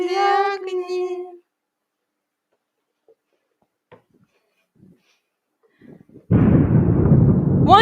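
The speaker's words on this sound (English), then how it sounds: "One day, I wake to the sound of distant explosions." In a stage play, a loud, deep rumbling blast of distant explosions bursts in after a stretch of near silence, following a short sung Russian lullaby phrase at the start.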